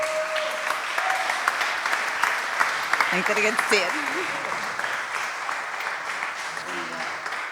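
Audience applause for a performer at a music and poetry event, a steady dense clapping that continues throughout while someone speaks briefly over it.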